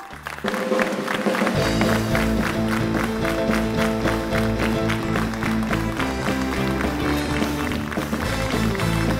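A studio audience on a late-night talk show applauds warmly to welcome a guest, the dense clapping running steadily over loud rhythmic music.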